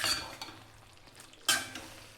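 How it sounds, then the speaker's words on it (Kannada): Spoon stirring stuffed capsicum curry with fresh coriander leaves in a pan, the gas already off: a scraping burst at the start and another near the end, with soft clinks between. "ಈಗ ಸ್ವಲ್ಪ ಕೊತ್ತಂಬರಿ ಸೊಪ್ಪನ್ನ ಸೇರಿಸಿ ಚೆನ್ನಾಗಿ ಮಿಕ್ಸ್ ಮಾಡೋಣ."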